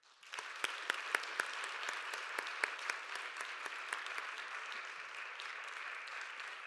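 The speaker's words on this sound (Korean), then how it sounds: "크게 박수로 환영하도록 하겠습니다" At a Korean church's Sunday youth worship service, the congregation gives a warm round of applause to welcome a newly appointed associate pastor. Sharp individual claps ring out over a continuous bed of clapping that gradually thins and softens.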